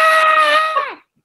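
A voice imitating a woman screaming, one sustained high-pitched shriek that holds steady and then bends downward before cutting off, loud and close.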